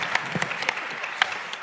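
Audience members at a congress clap sparsely, with a handful of distinct hand claps scattered over under two seconds rather than a full ovation.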